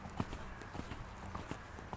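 Horse hooves thud in a rhythmic series during a riding lesson as the rider slows the gallop, the footfalls moderately close, with no voices in the clip.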